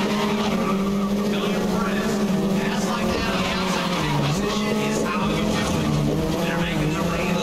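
A racing car in the video game Grid 2019 running over a rumble strip, giving a steady engine drone with buzzing, skidding tire noise throughout, while someone talks over it.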